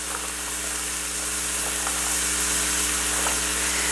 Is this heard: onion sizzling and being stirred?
yes